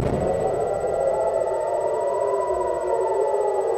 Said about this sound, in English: Okay, another siren just went on.